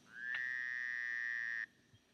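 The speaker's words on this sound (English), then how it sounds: "There are frogs, night frogs who sing songs for you every night." Night frogs calling in the countryside: a single sustained, steady trilling call, close and fairly loud, holding for over a second before cutting off sharply, with quiet night air around it.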